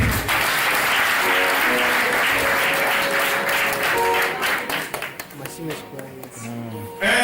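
Wedding guests at a religious ceremony burst into sustained, dense applause that fills most of the moment before thinning out, with voices and some musical tones carrying underneath.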